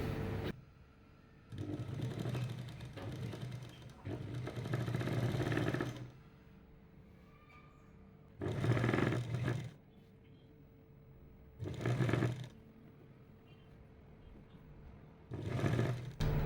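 Sewing machine stitching a chudidar top in several separate bursts, each a steady mechanical whirr lasting one to four seconds, with near-silent pauses between runs.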